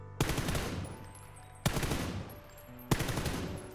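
Three short bursts of automatic rifle fire sprayed at a wall without leaning in PUBG, each burst a sharp rapid volley that rings out and fades before the next, separated by brief pauses.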